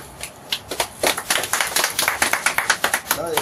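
An audience at a political party event claps to welcome a new member, a steady run of close, brisk hand claps lasting several seconds.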